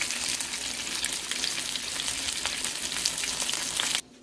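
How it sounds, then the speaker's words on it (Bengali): Fish frying in a pan gives a steady, loud, close crackling sizzle that runs unbroken for about four seconds before cutting off abruptly near the end, with no voices. "আর ওদিকে মাছটা ভাজা হচ্ছে"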